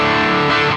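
A distorted electric guitar runs through a Boss GT-1000 and is recorded in Luna with Lexicon 224 reverb. A dense, sustained chord rings loud and steady with a wash of reverb tail.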